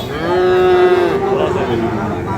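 Sahiwal-breed cattle at a livestock market low in a long, loud moo that swells and holds with clear tonal harmonics, standing out over faint crowd murmur in the background.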